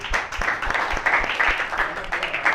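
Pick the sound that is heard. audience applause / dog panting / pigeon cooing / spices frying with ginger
audience applause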